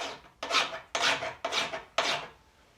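A hand file rasps across mild steel on a workbench in a blacksmith's shop, with four steady strokes, each a gritty, scraping push followed by a short pause.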